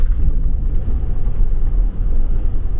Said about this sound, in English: Truck pulls good.